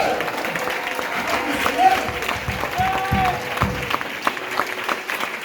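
A church congregation applauds Jesus with steady, dense clapping that fills the room, while a preacher's voice rings out over the applause.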